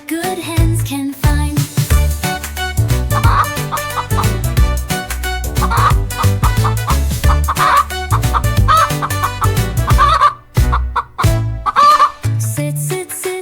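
A hen clucks repeatedly through bouncy children's farm-song music, the clucks mixed in with the tune at a steady rhythm.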